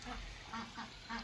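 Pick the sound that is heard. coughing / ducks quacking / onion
ducks quacking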